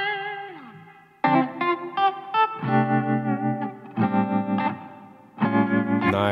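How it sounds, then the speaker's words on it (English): A LANDR FX plugin preset with reverb and tremolo processes a melodic instrument. Sustained, effected tones come in several separate phrases with pauses between them, and there is no talk. "Little reverb and tremolo. I like that one."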